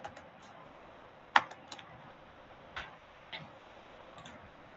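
Sparse keystrokes tap on a computer keyboard, a handful of light clicks with one sharper press, irregularly spaced against a quiet background.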